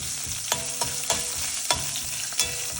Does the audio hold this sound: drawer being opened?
no